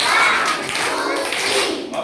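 Children clapping together in a classroom during a grade 2 lesson, a short burst of claps close by, fairly loud and brief.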